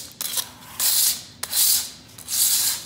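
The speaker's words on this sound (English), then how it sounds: "and just scrape away." A small hand scraper with a fresh razor blade scrapes old carpet padding off a floor in three close, rasping strokes, each a bright scratchy swipe with brief pauses between.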